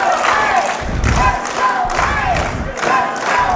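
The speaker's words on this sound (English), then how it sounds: "Crowd getting behind Wayne." A wrestling crowd at a Southern States Wrestling show rallies behind Wayne, loud rhythmic chanting and cheering in regular surges, with a thump from the ring.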